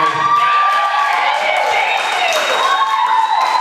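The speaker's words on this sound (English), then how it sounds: "I said loud round of applause for Jared" A crowd at an improv comedy show cheers loudly for a volunteer named Jared, with whoops and shouting voices riding over sustained clapping that stays dense and energetic from start to finish.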